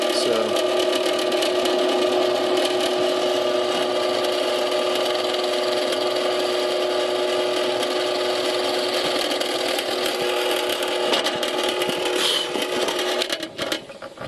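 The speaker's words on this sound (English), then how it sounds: "I'm just going to go ahead and run this drill press" A drill press boring a 1/2 inch hole through 3/4 inch plywood gives a steady, loud, continuous whine with a grinding edge for the whole stretch, then tails off near the end.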